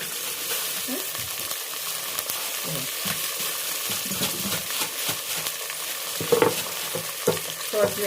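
Onions fry in a pan for chicken curry with a loud, steady sizzle, while a spoon stirs and scrapes at irregular intervals close by.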